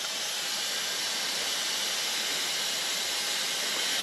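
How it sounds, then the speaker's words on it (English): Air hissing out of 4WD tires being deflated for off-road driving toward Cape York, a constant loud, steady rushing hiss with no talk. "time to let the tires down"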